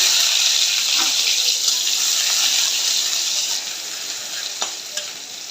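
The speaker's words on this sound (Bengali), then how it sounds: "তেলটা গরম হয়ে গেছে এখন পেঁয়াজ দিয়ে দিলাম" Onions hiss loudly in hot oil as they hit the pan, a bright, steady, close sizzle that eases slightly toward the end, with a few light clinks and no talking.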